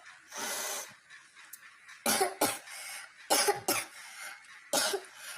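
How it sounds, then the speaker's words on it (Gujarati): A woman coughs repeatedly on a video call, with several harsh bursts in irregular clusters, close and fairly loud, separated by short quiet gaps. "હા પીધી લે આ લીંબુ એ પીધું ઉધરસ આવે છે"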